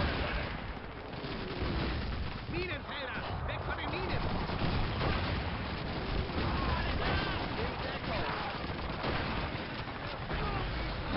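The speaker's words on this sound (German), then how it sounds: "Wo schießt denn der hin, der Typ?" Call of Duty 2 battle gunfire, a steady wash of rifle and machine-gun shots with distant booms under constant battlefield noise, with a voice talking over it.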